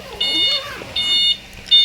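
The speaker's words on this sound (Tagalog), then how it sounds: "request din ni customer na tanggalin na daw yung tunog ng paatras niya dahil masyadong maingay" An e-bike's reversing beeper sounds in three loud, evenly spaced electronic beeps, each lasting about a third of a second, with no talk over them.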